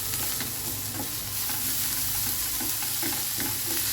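Green chilli, ginger and a handful of coriander leaves fry in a pan with onion, giving a steady close sizzle with soft stirring scrapes throughout and no talking.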